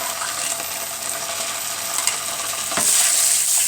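Tomato paste being stirred into frying golden onions in a pan: a steady close sizzle with soft scraping stirs, and a brighter hiss swelling near the end.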